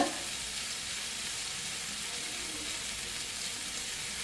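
Onions and Swedish meatballs frying in a pan: a loud, continuous hissing sizzle that holds steady throughout, with light stirring barely standing out.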